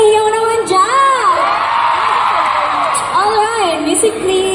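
A crowd of Filipino fans at a live concert in Dubai shouting and cheering loudly, with high rising whoops and yells swelling in waves, close and dense throughout.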